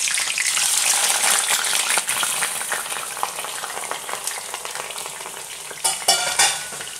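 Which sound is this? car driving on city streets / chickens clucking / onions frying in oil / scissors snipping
onions frying in oil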